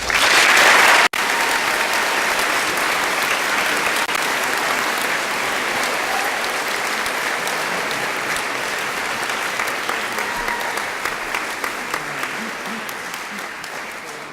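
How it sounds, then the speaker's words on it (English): Sustained audience applause fills a school auditorium at an eighth grade recognition ceremony, a dense steady clapping that starts after a sharp break near the start and carries on for about fourteen seconds, thinning slightly toward the end. "if you just hold your applause until I call both names, Lily Kelly and Joshua Goldberg."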